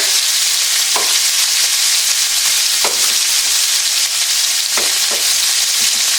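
Chicken pieces sizzle and fry steadily in a hot pan, with a few sharper pops and clicks of stirring breaking through the constant crackle.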